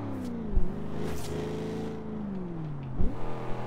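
A '70 Camaro Z28 with a manual gearbox revs in Forza Horizon 2, its engine note climbing and falling with two sharp shifts or throttle blips, close and loud.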